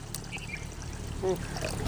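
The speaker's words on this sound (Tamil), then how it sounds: "இடித்து வச்ச பொடியை கொட்டி ஒரு கிளறு கிளறி தண்ணி ஊற்றிக்கலாம்" Water is poured into a pan of pirandai tamarind curry just after the ground spice powder has been stirred in; a faint, steady pour runs low under kitchen background noise.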